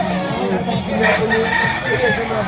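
A rooster or chicken calls at a busy poultry market in Lipa, Batangas, its crowing partly masked by nearby talk and crowd chatter.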